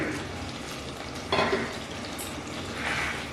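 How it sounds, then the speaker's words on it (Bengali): Part-fried potatoes are sautéed with spices in oil over a medium flame in a pan, giving a dense continuous sizzle with a brief scrape of the spatula partway through. "এই একই সাথে মশলার সঙ্গে আলুগুলো কষিয়ে নেব।"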